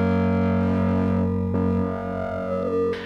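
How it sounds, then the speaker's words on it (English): Roland Promars analog synthesizer playing a sustained, heavily distorted tone with buzzing harmonics, loud and close, with a brief shift in timbre near the end. "Masses of distortion and"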